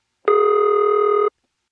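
Telephone ring tone from a 1970s independent, non-Bell network: one steady buzzing ring burst lasting about a second, loud and clean, with silence before and after.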